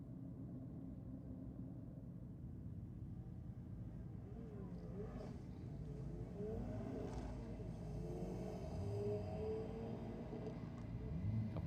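Ford Falcon ute at a Sydney drag and burnouts night, engine rumble building as it accelerates with quick gear changes, heard from a distance under steady crowd and track noise.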